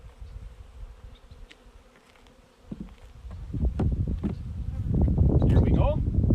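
Agitated honey bees swarm around an opened hive, a dense close buzzing that swells and grows louder toward the end, with scattered handling knocks and brief bursts of close wing noise.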